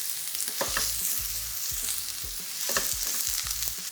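Onions sautéing in oil in a pan for ackee and saltfish, a steady close sizzle with repeated stirring scrapes and knocks throughout, no talking.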